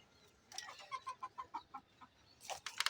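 Chickens kept on a small city rooftop farm give a quick run of about eight short, evenly spaced clucks, close and fairly quiet, followed by a brief louder burst of squawking.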